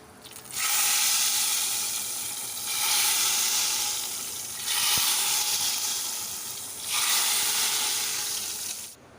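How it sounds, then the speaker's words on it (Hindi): Hot cumin tempering poured onto dal sizzles loudly in several long hissing waves, steady frying bursts with brief softer gaps between them, close and without talk. "अब हम इसको दाल के ऊपर तड़का लगा देते हैं।"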